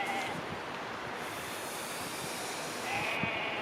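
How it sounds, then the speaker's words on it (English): A sheep bleats faintly far in the background, carried over a steady wash of wind and surf from the sea, with a couple of brief thin cries near the start and end. "Sounds like a sheep in the background, but out to sea."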